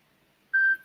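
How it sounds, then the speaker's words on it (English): A timer alarm goes off at the end of a countdown, one steady electronic beep tone that starts after a short silence and holds for about a quarter second before cutting off. "Y'all hear that? That's the alarm."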